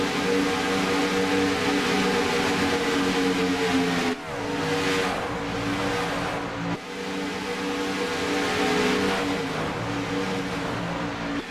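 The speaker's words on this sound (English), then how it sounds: "So listen to the racing sounds" Racing car engines roar and whine steadily, revving and shifting with a couple of brief dips, loud and continuous throughout.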